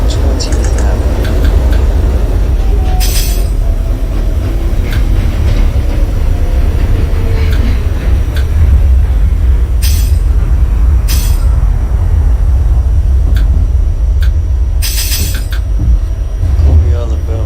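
An NYC Subway R68 D train runs through the OpenBVE simulator on the West End line toward Coney Island, making a steady loud rumble and rattle with periodic sharp hissing bursts.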